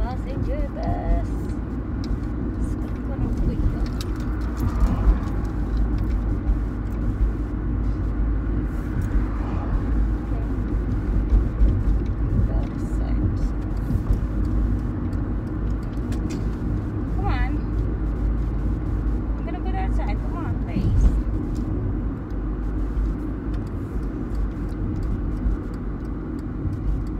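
A passenger bus engine drones steadily and low throughout a long stretch, with road noise and voices talking over it.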